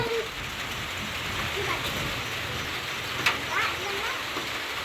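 Rain falls steadily outdoors as a soft, continuous hiss, with a few brief clatters and people talking over it.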